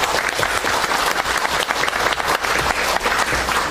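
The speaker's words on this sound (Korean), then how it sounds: "박수 부탁드릴게요." An audience at a civic ceremony in Jongno, Seoul, applauds steadily as a politician is invited to the stage, a dense, even wash of many hands clapping throughout with no talk.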